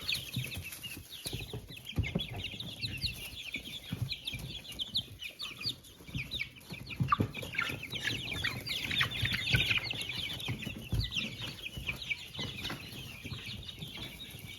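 Chicks cluck and cheep continuously nearby, a busy flock chattering with occasional louder squawks and some rustling.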